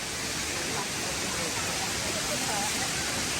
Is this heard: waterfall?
yes